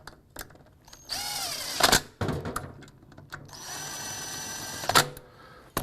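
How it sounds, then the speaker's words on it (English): A power gun drives bolts down into a transmission case in several short whirring bursts, close and moderately loud, with brief pauses and metallic clicks between runs. "I'm going to use my gun here just to run these bolts down."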